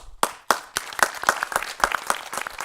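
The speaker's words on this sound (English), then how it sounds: "I'd like to give you all a round of applause." Audience applause at a fraud awareness panel discussion in Wilmington: many hands clapping in a dense, steady burst that carries on throughout, close and fairly loud.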